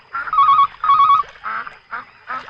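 A telephone rings in two long, loud trilling bursts followed by shorter fading rings, heard alone with no talking.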